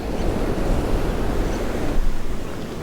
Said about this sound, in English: Heavy current, heavy surf.